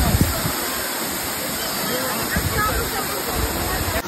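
The turbulent Shahasradhara-2 waterfall roars in a dense, unbroken rush of falling water, loud and close, holding steady from start to finish.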